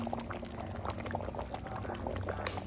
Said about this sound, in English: Let it simmer right down.